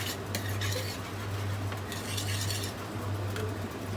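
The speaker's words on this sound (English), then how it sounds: "Keep on stirring it" A utensil stirring gnocchi in a pan, soft repeated scraping and light metallic clinks at an easy pace over a low steady hum, close and fairly quiet with no talk.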